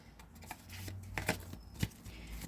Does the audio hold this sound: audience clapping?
no